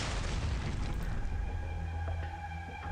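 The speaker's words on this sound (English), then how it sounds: "Where was the explosion?" An explosion in an Arknights video game cutscene, a heavy deep boom with a rumbling tail that fills the whole stretch with no speech over it.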